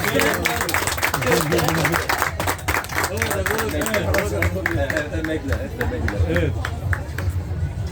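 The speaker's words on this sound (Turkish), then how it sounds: "Abi alkış gelsin." Audience clapping at a Gaziantep food festival, a steady, brisk patter of many hands under a voice speaking throughout, with crowd murmur in the background.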